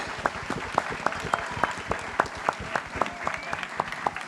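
An audience claps in a steady, rhythmic beat that stays even and moderately loud throughout, with a faint murmur of voices beneath.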